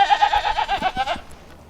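Goats bleat close by in a rapid, wavering burst that tails off into quiet after about a second.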